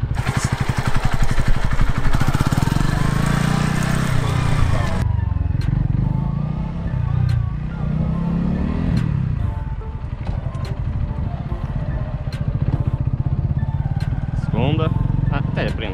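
A motorcycle engine drones steadily and close, its rumble rising and falling as the bike rides along, with a voice talking over it.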